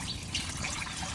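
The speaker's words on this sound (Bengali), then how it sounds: "জল দিয়ে দিলাম" Water pouring into a vessel to soak dried kachki fish, a soft continuous trickle close by with no talking.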